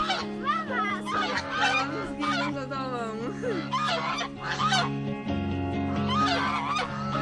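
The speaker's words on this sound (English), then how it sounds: "Beware of the domestic birds living near the ponds." Domestic geese near a park pond in Madeira honking loudly and repeatedly at close range, overlapping calls in uneven bursts with brief lulls between.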